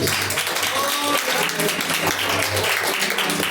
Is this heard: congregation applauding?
yes